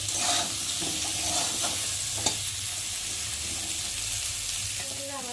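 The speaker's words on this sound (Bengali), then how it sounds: "আমি পটলটাকে একটু ভালো করে ভেজে নেবো লাল লাল করে" Pointed gourd (potol) pieces frying in an oil-filled pan, a steady close sizzle with occasional stirring clicks and scrapes, no talking.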